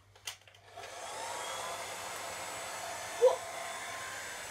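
A hair dryer starts after a brief clatter and then blows as a steady, even whoosh that holds nearly to the end, with one short spoken word near the end.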